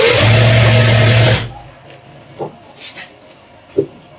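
A sewing machine runs loud and steady, stitching a shalwar panel, then stops abruptly after about a second and a half, leaving faint handling taps and rustles.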